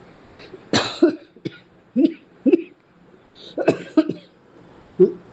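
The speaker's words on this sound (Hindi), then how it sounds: "थोड़ी खांसी आ रही है" Several separate coughs, close and fairly loud, some in quick pairs, with short quiet gaps between them and no talking.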